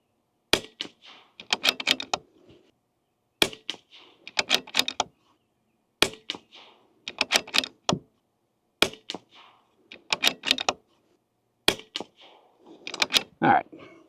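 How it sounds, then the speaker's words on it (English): A rifle fires Eley Ultra 22LR rounds at a target in five evenly spaced groups, each a cluster of sharp, close cracks with bolt or action clatter, separated by silence and faint talk. "me just trying to throw rounds down there"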